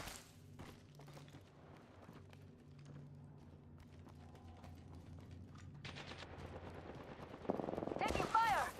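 Bursts of automatic gunfire crackle through a battle royale video game match, scattered shots growing louder and denser toward the end, with faint game sounds and footsteps underneath.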